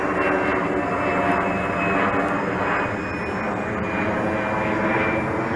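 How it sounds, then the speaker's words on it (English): An RC foam airplane's electric motor at full throttle makes a steady, loud, high-pitched whine that holds constant throughout, heard from close by with no talk over it. "That's full throttle right there."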